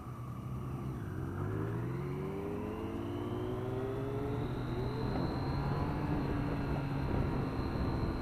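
A Triumph Street Triple R motorcycle pulls away in first gear, its engine note climbing steadily in pitch as it accelerates, heard at moderate level over a continuous road and wind rush.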